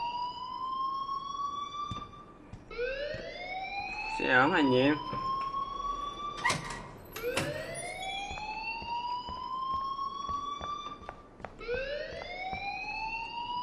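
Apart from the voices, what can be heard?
school alarm ringing in video game Life is Strange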